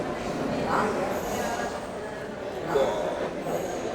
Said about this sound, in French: Là, il y a du RER.